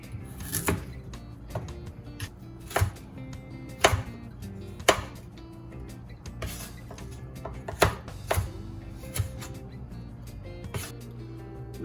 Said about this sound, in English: I'm just gonna julienne all of my veg. I'm gonna start with the carrot.